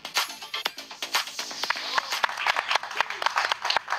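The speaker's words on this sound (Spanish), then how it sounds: "El aplauso para Mildred y su mami Elizabeth" Studio audience applause on a Canal 11 television talk show, heard as scattered, uneven claps with short sharp bursts over about four seconds, mixed with background talk.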